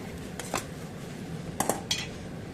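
A spoon scrapes and taps against a pan while brinjal chutney is mixed with tamarind and salt, a few light metallic clinks over steady low background noise.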